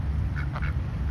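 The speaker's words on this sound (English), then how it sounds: "Look at all of these ducks." A few ducks give short nasal quacks, two or three brief calls over a steady low background rumble.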